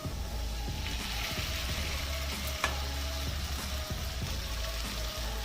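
Soaked sago goes into a pan of fried carrots, cashews and raisins for sago pulao, with a continuous close frying sizzle, occasional stirring scrapes and low clatter, and no talking.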